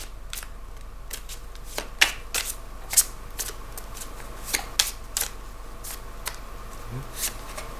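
Tarot-style cards shuffled by hand during a card reading: a string of crisp riffling snaps and flicks at uneven intervals, close and fairly quiet, with a soft low hum beneath and no talk over them.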